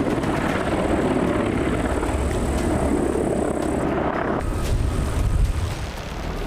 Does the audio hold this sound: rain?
no